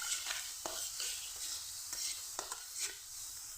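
Spices are stirred in a frying pan over a soft, steady sizzle, with repeated scraping strokes from a spoon close by; no talking.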